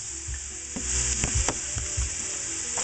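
Cajun chicken pieces fry in plenty of oil in a pan, a bright, constant sizzle layered with several soft knocks and scrapes from turning the meat, close and loud.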